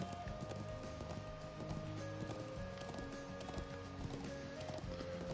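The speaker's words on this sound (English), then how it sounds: "A horse that can start and stop on a dime like that is worth its weight in gold." A horse's hooves clip-clop in quick rhythmic strikes in the Trails of Cold Steel role-playing game, quiet and steady over game background noise.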